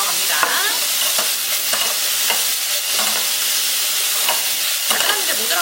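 Japchae noodles are stir-fried with soy sauce, with wood ear mushrooms to be added, in a loud, continuous sizzle with a steady rhythm of spatula scrapes and tossing.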